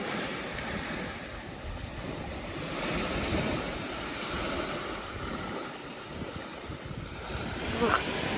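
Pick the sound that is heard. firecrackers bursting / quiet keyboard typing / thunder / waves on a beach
waves on a beach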